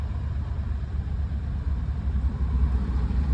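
A Mahindra Bolero BS6 engine idles with a steady low rumble, close and even throughout, with no voices.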